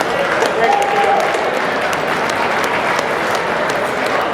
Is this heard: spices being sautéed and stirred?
no